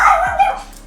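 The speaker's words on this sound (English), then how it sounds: "that's my dog yelling at the mailman again" A dog barks at a mail carrier, one short yelping bark rising and falling, close and fairly loud, with no talk over it.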